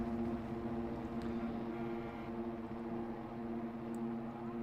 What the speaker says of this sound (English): And the revs are up.